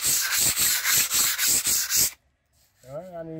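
Dried wall putty mixed with cement is sanded by hand in about eight quick, rhythmic rasping back-and-forth strokes, then the sanding stops, a short silence follows, and a brief voice is heard.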